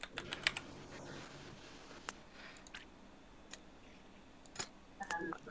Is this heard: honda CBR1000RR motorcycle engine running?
no